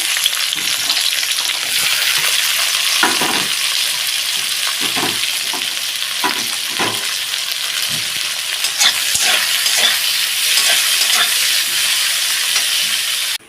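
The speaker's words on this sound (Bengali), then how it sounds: "এবার এই পেঁয়াজটাকে একটু হালকা লাল করে ভেজে নেবো" Onion fries in oil in a pan as soybean biryani is prepared, giving a loud, close, continuous sizzle. Occasional stirring scrapes and pops break through the steady hiss.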